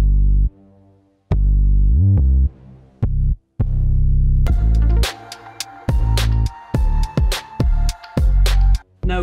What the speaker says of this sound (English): reese sort of bass sound